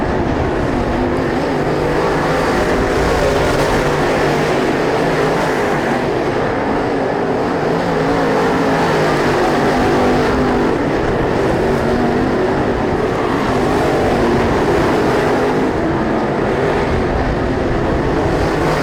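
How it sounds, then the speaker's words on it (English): Race cars lap a track in a continuous, dense engine roar that stays loud and steady throughout, with no talk over it. "Bronson has to defend against Mathis while trying to catch Peacock."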